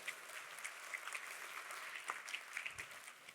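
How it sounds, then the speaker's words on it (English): A conference crowd at a Medicare insurance event applauds, a steady wash of many hands clapping at a distance, fairly quiet and without talk. "Give it a round of applause."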